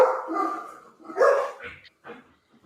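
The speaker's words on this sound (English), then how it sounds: "That's my dogs." Several dogs bark loudly in short bursts close by, with a few yips and a whimper between them, on a Southern homestead with chickens.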